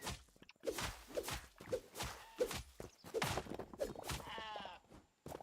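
Sheep in the video game Hytale bleat in short, repeated calls at a steady rhythm alongside in-game footsteps and thuds, fairly faint and close.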